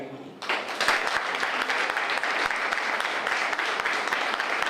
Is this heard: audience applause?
yes